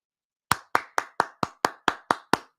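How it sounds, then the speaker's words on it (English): A single person claps hands close to a microphone, ten crisp evenly spaced claps in a steady rhythm after a brief silence, loud and dry. "is this man literally clapping audibly into a microphone on the show?"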